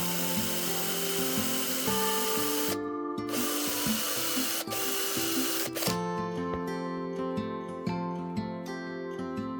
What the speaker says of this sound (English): We drill a hole in the bowl that matches the diameter of the tenon